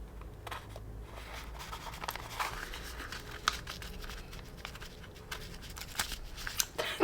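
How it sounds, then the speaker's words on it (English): Scissors cutting open small advent calendar packaging, quiet snips and crinkling plastic and paper rustles close by, uneven and intermittent, without speech. "I'm just gonna start using my scissors for these."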